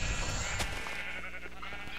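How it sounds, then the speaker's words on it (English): Sheep in the Minecraft video game let out a bleat near the start, followed by a few faint clicks and game sounds in a quiet background. "I just sheared all the sheep."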